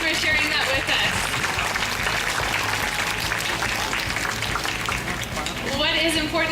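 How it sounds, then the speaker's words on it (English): An audience claps for Kevin and Keela after a presentation at the Vancouver Aquarium, a steady, dense patter of applause lasting throughout with voices mixed in underneath. "Let's give Kevin and Keela a big round of applause for sharing that with us."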